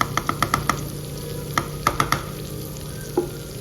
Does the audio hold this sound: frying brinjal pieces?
yes